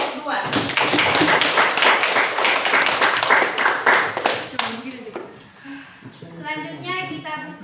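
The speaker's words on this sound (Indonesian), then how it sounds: "kita beri aplaus untuk kelompok 2" A classroom audience applauds a student group during a teaching-performance test at Universitas Tadulako, a burst of brisk, scattered clapping that fades after a few seconds into quieter talk.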